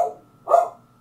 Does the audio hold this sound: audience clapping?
no